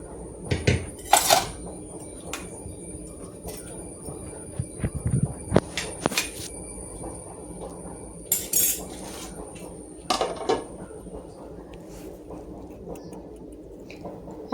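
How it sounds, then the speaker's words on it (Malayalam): Fish are dropped into a pot of boiling masala gravy, with repeated metal clinks and scrapes of a spoon against the pot over a low, steady background simmer. "ഇനി നമുക്ക് നമ്മുടെ മീനൊക്കെ അതിലോട്ട് ഇട്ട് കൊടുക്കാം."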